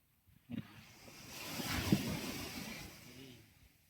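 Sea waves roll in at a beach in Calatagan, Batangas at high tide, a soft wash that builds and recedes once over a few seconds with a gentle whoosh, fairly near, with some wind on the microphone.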